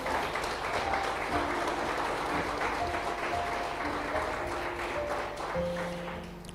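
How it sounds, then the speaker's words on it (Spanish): Church congregation applauding steadily through a Sunday service, broad sustained clapping with a few tonal musical notes sounding beneath it, fading slightly at the end. "¿Cuándo le dan un aplauso a Cristo?"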